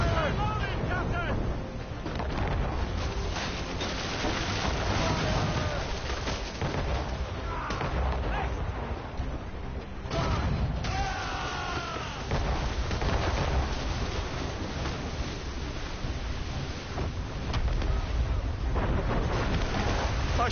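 Ship cannon fire from a naval battle in Assassin's Creed Rogue, loud booming shots over dense game sound, shouted crew voices and music, with talk throughout.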